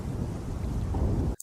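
A low, heavy rumble of thunder from a lightning storm rolls continuously as a story sound effect, with a rain-like hiss on top, then cuts off abruptly near the end.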